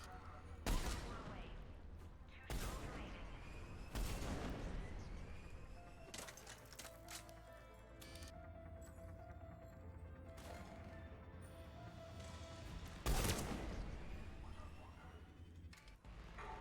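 Gunfire in the video game Mass Effect comes as several sharp, loud bursts spaced through a long stretch, with quieter game sounds and a speaking voice in between.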